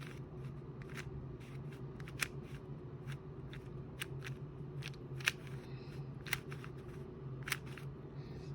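A YJ MGC 4x4 speed cube is turned by hand in quick bursts of soft plastic clicks and snaps, with a few sharper clacks standing out over a low steady room hum, close and fairly quiet.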